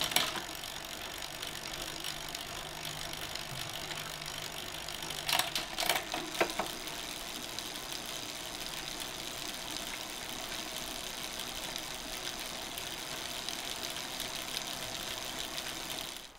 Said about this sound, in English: All you can hear there was just the rear gears changing